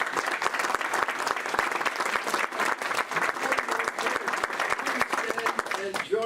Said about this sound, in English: All Paul Harris Fellows present, please stand to applaud our awardee as he becomes a Paul Harris Fellow